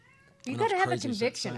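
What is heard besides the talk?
cat meowing inside a shop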